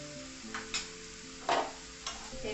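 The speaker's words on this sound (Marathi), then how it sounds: "हे सगळं आपण मिक्स करून घेऊ" Spoon stirring red chili powder and turmeric in a frying pan, a few soft scraping strokes over a faint sizzle, quiet and close with no voices.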